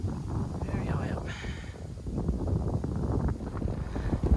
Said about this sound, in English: Now there's a lot of wind up here